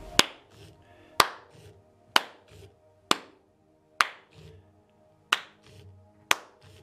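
Single sharp hand claps ring out about once a second, seven in a row, each crisp and close, made to trigger an Edison robot's clap control; soft motor whirs and small sounds fill the gaps between them.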